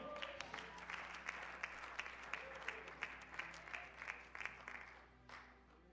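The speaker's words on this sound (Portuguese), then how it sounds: "Quantos pode aplaudir ao Senhor?" Congregation at an evangelical church service applauds, a sustained crowd of clapping hands with distinct sharp individual claps popping out, fairly near, fading slightly toward the end.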